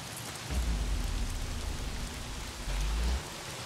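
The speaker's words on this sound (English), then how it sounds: "Well, not if it's pissing down rain." Heavy rain pours in the Days Gone video game, a dense and even hiss over a deep rumbling low end that swells twice, with no voices.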